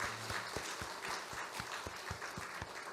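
Congregation in a Korean church gives a round of applause after a choir performance, steady clapping from many hands with a few sharper rhythmic claps standing out near the front.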